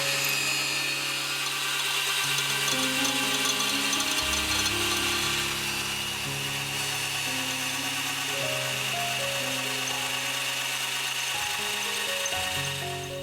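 An ALLSOME BG-518801 bench drill press drills into iron with a coarse bit, a steady motor whine with shifting grinding tones as the bit cuts the metal, loud and close with no talk.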